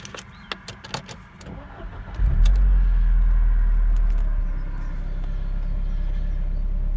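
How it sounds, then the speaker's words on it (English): A 1997 Mercedes SLK230 Kompressor convertible in silver starts up: a few clicks and a short crank, then the engine catches with a loud low roar around two seconds in and settles into a steady, rumbling idle. "just start the car up for you"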